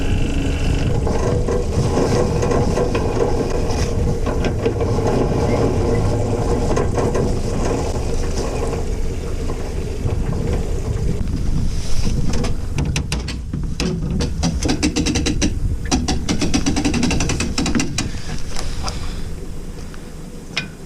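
A boat engine idles during a sea trial off Newfoundland, a close, loud, continuous rumble with mechanical rattling and clicking throughout, shifting slightly midway, with no voices.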